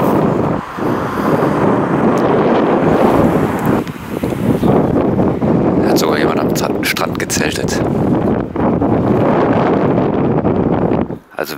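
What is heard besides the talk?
wind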